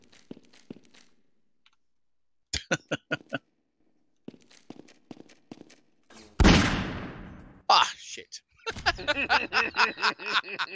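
Gunfire in a Half-Life 2 Deathmatch match comes as short clusters of sharp shots and one loud blast with a trailing roar, mixed with game sounds and some vocal noise.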